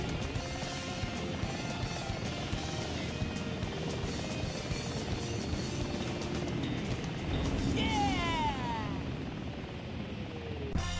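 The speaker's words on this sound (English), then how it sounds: "You get a cute little intro video with Sonic escaping from a gun helicopter." A gun helicopter in the Sonic Adventure 2 video game intro, its rotor chopping steadily under game music and effects, with whooshing sweeps toward the end.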